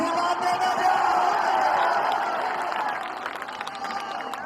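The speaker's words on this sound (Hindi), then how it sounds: "तो ताली बजा का आशीर्वाद देना चाहिए" A large crowd at a political rally in Karakat, Bihar claps and cheers continuously, a dense loud roar of applause and shouts that gradually thins toward the end, with a voice faintly mixed in.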